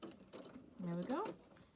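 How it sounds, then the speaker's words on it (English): Sewing machine stitching around the edge of a fabric square bag with a quarter-inch seam, heard as a short near whirring burst under a little quiet talk. "then I'm going to stitch all the way around the rest of the square"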